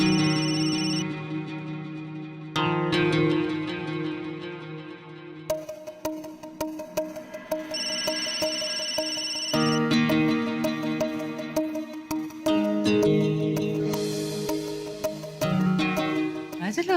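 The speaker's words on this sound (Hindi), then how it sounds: "कुणाचा फोन आहे? कट का करतेस सारखा?" A mobile phone ringtone plays on and off for about seventeen seconds in a Marathi TV serial scene, its tonal melody loud and steady, with a few short breaks where it cuts out and starts again.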